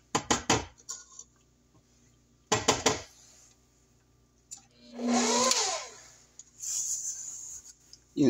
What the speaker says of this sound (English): we're going to scrape down, then we're going to start adding the eggs one at a time